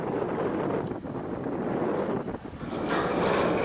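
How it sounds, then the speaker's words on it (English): Strong wind gusts over a rooftop work site, a loud continuous rushing roar buffeting the microphone with brief dips and swells. "The wind can be ferocious."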